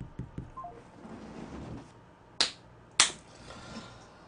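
A phone call over Skype fails to connect and is followed by electronic tones: a few soft clicks, then two sharp, loud beeps about half a second apart, with faint background noise and no talk.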